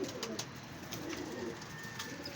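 Pigeons coo softly and steadily at a pigeon show featuring flying pigeons, their low murmuring calls continuous and close, with no talking over them.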